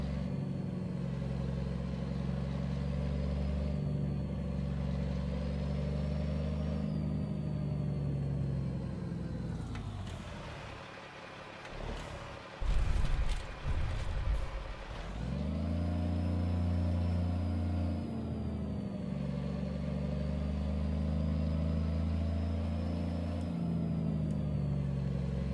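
A Renault Premium truck engine in a driving game hums steadily and loud, drops away as gears are shifted with a few clunks midway, then climbs back into a rising drone that keeps revving.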